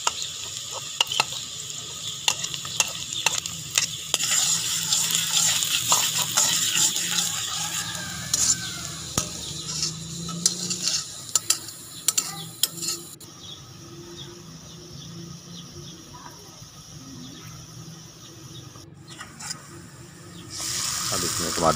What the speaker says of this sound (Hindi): कढ़ाई में घी डालें और उसमें प्याज डाल दें।